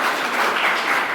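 Audience clapping at a public event about a road project on Delft Island, a steady, dense wash of many hands filling the whole moment at an even level, with no voices over it.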